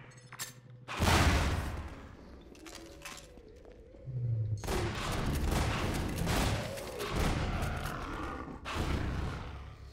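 Shotgun blasts and combat noise in Half-Life 2 Episode 1: a heavy boom early on, then a longer stretch of loud blasts and roaring clatter, with a few sharp cracks near the end.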